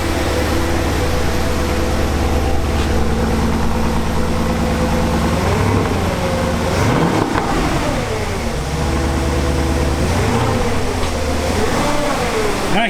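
A Porsche Cayenne fitted with a new exhaust and welded flex pipes idles steadily up close, with a deep continuous engine drone and a brief shift in pitch midway, without speech.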